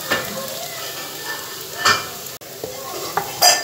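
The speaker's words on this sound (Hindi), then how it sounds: "लाइट सा प्याज फ्राई हो गया" Onions frying lightly in a pan with several scraping stirs of a spoon, a steady close sizzle under short bursts of utensil scraping against the metal.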